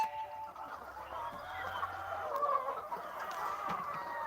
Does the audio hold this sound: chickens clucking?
yes